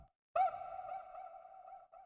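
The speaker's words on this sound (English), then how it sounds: "Another vocal sample. I put effect on it too, some reverb and some delay." A short processed vocal sample for an Amapiano beat, one sustained tonal note drenched in reverb and delay, ringing on and trailing off over about two seconds, quiet and alone.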